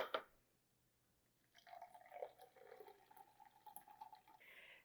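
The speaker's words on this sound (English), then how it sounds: "So now we're just going to pour it into the glass." Cranberry juice poured into a glass, a quiet liquid trickle and splash that starts after a near-silent pause and runs steadily for a few seconds, close by with no talking.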